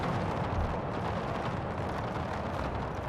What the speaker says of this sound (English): So we're ending up with a firefight here